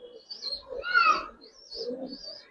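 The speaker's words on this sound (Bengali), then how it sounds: "বিন্দুমণির কবুতর" Giribaz pigeons coo at close range in soft, rolling calls, several short phrases in a row with faint chirps between them.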